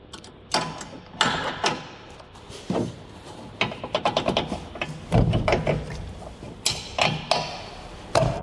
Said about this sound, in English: And now we'll secure the whole thing with our horntools pin for 2-inch square receivers.